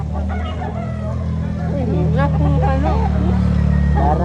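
Roosters crow at a chicken market expo in a public market in Cebu City, with a wavering call rising over a constant low hum and background crowd noise.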